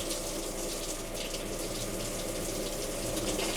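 Water gushes steadily from a tap inside a Sprinter camper van with a new LPG system, a strong continuous rushing flow close by and loud, with no talk over it.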